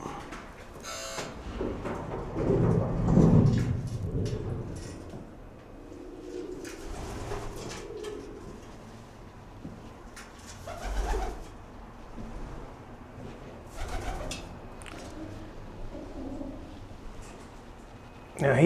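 Pigeons coo softly in the stairwell of an abandoned apartment building, with low, muffled calls echoing on and off under a person's intermittent talking and footsteps.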